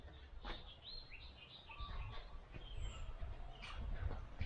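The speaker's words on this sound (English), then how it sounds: "A lot of animals here, a lot of birds." Several birds chirp outdoors with short high calls scattered across the clip, set against steady low wind or ambient rumble on a cloudy hillside with a view of mountains and a volcano.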